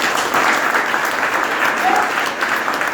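Dense, steady applause from a seminar audience fills the whole stretch, a loud continuous wash of many hands clapping together with no pauses.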